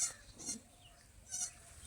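A goat giving birth in a village, with a breech kid, bleats faintly in a few short, strained cries against a quiet, hissy background.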